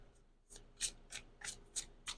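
Tarot cards are shuffled softly up close, making crisp riffling bursts that repeat in a quick, even rhythm with no voices.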